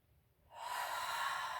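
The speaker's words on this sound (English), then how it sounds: "A couple of clearing breaths." A single deep clearing breath during a gentle yoga session, a soft airy rush starting after a quiet moment and sustained close to the microphone, with no talk.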